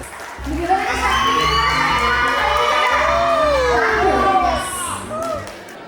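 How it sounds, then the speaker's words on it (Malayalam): Crowd at a 50th birthday celebration cheering, whooping and shouting together, with children's voices prominent, a continuous loud burst of festive noise. "നമുക്കാവാം ഒരു വലിയ കൈയടി പ്ലീസ്"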